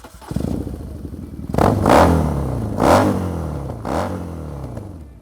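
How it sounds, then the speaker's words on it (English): A BMW R nineT motorcycle with a custom stainless steel exhaust idles with a loose, rattling rumble, then is revved hard three times, each loud roaring burst falling back to a throbbing idle. "there's some custom exhaust that we built all out of stainless. It's really, really damn loud"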